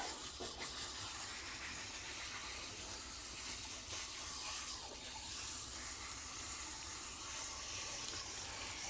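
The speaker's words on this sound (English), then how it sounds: "we're going to get her rinsed" Running water hisses steadily as a Shih Tzu dog is rinsed of medicated shampoo, a continuous, close spray with no break.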